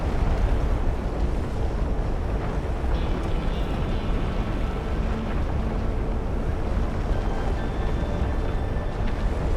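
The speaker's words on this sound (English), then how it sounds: "The storm's raging out there! We gotta get close to the next explosion field before we jump!" Storm winds roar in the video game Genshin Impact, a loud, dense and steady rush with low rumbling throughout and no distinct separate explosion standing out.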